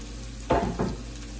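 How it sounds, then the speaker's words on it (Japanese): Vegetables for a Sri Lankan-style curry stir-fried in a pan, two short bursts of sizzling and scraping over a quiet background hum. "とりあえず何でもあるものを炒めて"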